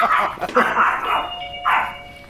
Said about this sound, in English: Dogs are coming. Dogs are barking.